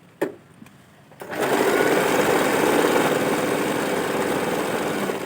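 An Usha Janome sewing machine starts after a few faint clicks and then stitches continuously, a loud, steady whirring drone that holds to the end.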